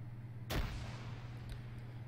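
A grenade bursts against a vehicle in Arma 3, one sharp blast up close followed by a short rumbling tail over a steady engine hum.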